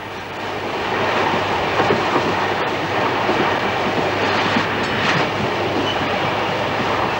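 The Ghan passenger train runs along the standard gauge railway, a continuous loud rumble of wheels and carriages with faint clickety-clack of the rails throughout, heard alone without voices.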